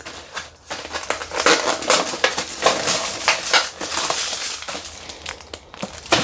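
Cherries crushed under a pressed chopping board on a kitchen counter, giving a run of close, crackly crunching and squashing bursts with brief gaps, rough and uneven throughout.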